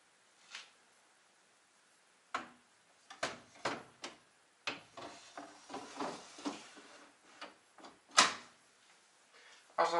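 A plastic condensate container slides back into a Bosch/Siemens tumble dryer, giving a run of close, sharp clicks, knocks and scraping thuds of varying strength, with no voices.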